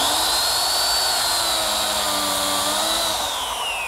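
A power tool, likely a biscuit joiner, whines steadily while cutting biscuit slots in wood for a Shaker tall chest. The high, loud tone wavers slightly in pitch and runs for about four seconds with no speech.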